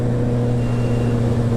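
A Kawasaki ZX-14R motorcycle pulls hard along an open road, its engine a steady, loud, close drone with strong low harmonics held throughout, no voices.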